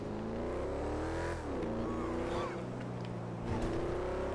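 A stolen motorcycle in GTA 5 drones with a loud, steady engine note, dipping briefly in pitch before climbing and revving again, with faint voice traces in the background.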